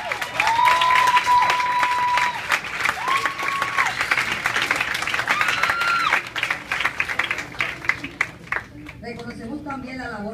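Families at a ninth-grade graduation ceremony applaud in loud, sustained clapping with tonal sounds ringing over it, then the clapping thins out as a speaker's voice returns at the end.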